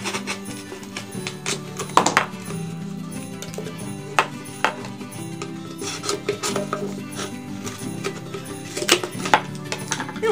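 A knife cuts and scrapes through material while a pinhole viewer is being built, giving irregular close scratching, rasping strokes and small clicks over a low background hum, with no voices.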